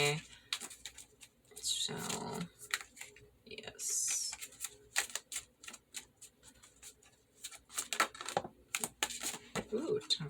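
Tarot cards being shuffled by hand give quick irregular papery riffles and soft slaps in bursts, close up, with a person briefly speaking in between.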